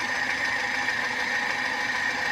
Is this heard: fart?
no